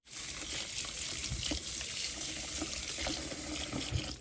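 Tap water runs steadily and close for several seconds, a continuous splashing stream used to soak freshly picked strawberries, with no voice.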